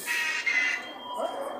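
A large crested bird in a science museum exhibit in Delhi squawks in a couple of harsh, nasal bursts, with people's voices mixed in over the calls.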